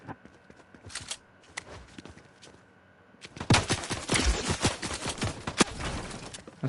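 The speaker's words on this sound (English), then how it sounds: "Some gunshots there being rung out there" Gunfire in a Fortnite tournament match: scattered sharp shots ring out at moderate distance, then a dense, louder burst of rapid shots and impacts takes over for the last few seconds, with no talk.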